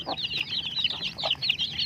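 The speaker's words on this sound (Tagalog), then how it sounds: "Kumustahin na natin yung pinampon kong sisiw dito sa Silky." Close, shrill peeping from a brood of six young chicks adopted by a Silky hen, quick overlapping chirps repeating without pause and no talking.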